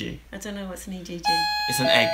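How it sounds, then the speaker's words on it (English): A two-tone doorbell chime rings out clearly over people talking, its tones lingering briefly after. "And that's the doorbell."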